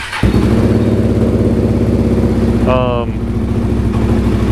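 A KTM RC390 cup bike single-cylinder engine idles loud and steady after a cold start on race fuel, with a brief rising whine partway through.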